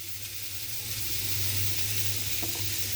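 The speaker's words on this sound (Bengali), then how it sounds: "হলুদ গুঁড়োটা দেওয়ার পরে আমি একটু নাড়াচাড়া করে নেব" Sole and koi fish curry with potato, plantain and greens sizzles loudly in a pan after turmeric powder is added, a dense continuous frying hiss with a stirring scrape near the end.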